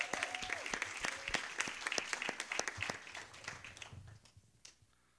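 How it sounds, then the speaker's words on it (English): An audience at a luxury home sales masterclass in Central Florida gives a round of applause, with sharp individual claps that thin out and fade toward the end. "Let's give a giant round of applause for Mr. George Stringer."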